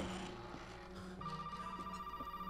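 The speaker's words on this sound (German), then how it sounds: "Oh, Telefon." A telephone ringing in the horror game Resident Evil 7, a faint, steady electronic trill that starts partway in and repeats in a fast pulsing rhythm over a low droning background.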